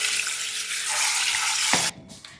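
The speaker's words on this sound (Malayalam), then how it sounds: "ഇനി ഇതൊക്കെ നന്നായിട്ടൊന്ന് കഴുകിയെടുത്തിട്ട് വരാം." Tap water runs steadily over vegetables in a home kitchen sink, a bright continuous rush that stops abruptly near the end.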